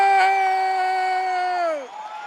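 A crowd at a political rally lets out a long, sustained whoop, a single loud voice riding over the group before the sound drops away and fades out.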